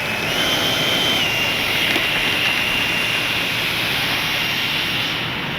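An FMS 70mm Yak 130 RC jet's turbine, fitted with a KM afterburner, runs with a loud, continuous high-pitched whine over a broad roaring rush, holding nearly steady and close for the whole stretch.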